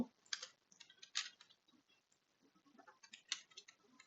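Quiet clicks of a cell reference being typed on a computer keyboard for a Google Sheets formula, a few short bursts of close keystrokes separated by brief pauses, with no voices.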